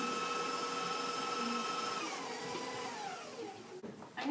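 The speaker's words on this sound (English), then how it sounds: "And turn the mixing bowl on really high so that it creams together." An electric mixer beating creaming ingredients in a mixing bowl at high speed: a steady close motor whine that starts to wind down and drop in pitch near the end, with a brief clatter at the end.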